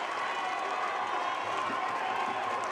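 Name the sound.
stadium crowd cheering at a football match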